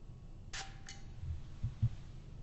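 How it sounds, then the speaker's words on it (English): A Nautica Voyage perfume atomizer gives one short, soft hiss of spray, then a second brief puff, faint and close in a quiet room, followed by small handling taps. "I will give you one spray"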